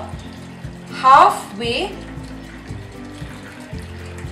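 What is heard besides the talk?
hot water poured into oven-proof dish for water bath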